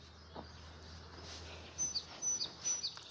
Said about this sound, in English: I hear all those birds down there, like, yelling to me